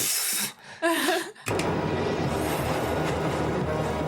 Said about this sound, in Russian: Поезд едет 200 км в час, они спокойно идут.